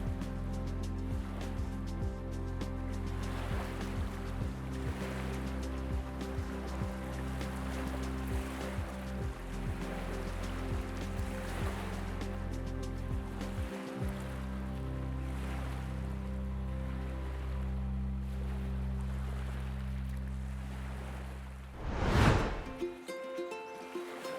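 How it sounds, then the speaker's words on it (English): Waves wash steadily on a wild, deserted Caribbean beach, a continuous surf roar with low rumbling and a brief louder swell near the end, with no voices. "wild and deserted beaches offer an authentic Caribbean experience, where time seems to stand still, and the only sound is that of the waves"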